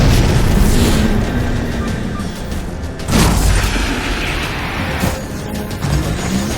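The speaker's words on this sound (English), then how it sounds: "Target those phantoms for the railgun to shoot down." Halo 4 railgun firing at Phantom dropships, a rumbling wash of heavy booms with a sharp blast near the middle and another later, set against continuous low battle noise.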